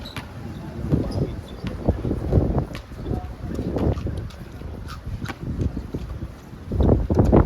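Gusty wind buffets the microphone in uneven, rumbling bursts throughout, with faint voices and outdoor noise underneath.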